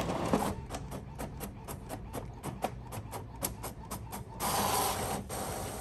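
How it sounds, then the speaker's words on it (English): Epson 16600 printer with Cosmos ink running a sublimation print, its printhead carriage making a steady series of rhythmic mechanical passes with a louder whir near the end, close and alone. "I'm using an Epson 16600 printer with Cosmos ink and Crafting Bestie's paper."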